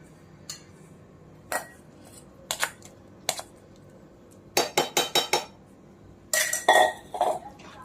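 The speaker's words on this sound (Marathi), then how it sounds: "आता हे सारखं हलवत राहायचं आहे" Intermittent metallic scrapes and clinks of a spoon stirring a thick mixture of grated amla in a pan, coming in short bursts separated by quiet pauses.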